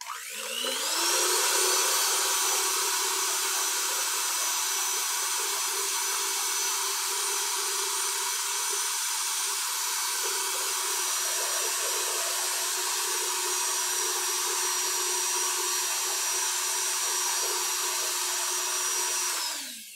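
An electric mixer whips homemade chantilly cream with a steady, close whine that starts abruptly, holds an even pitch for about twenty seconds and cuts off at the end, with no talk.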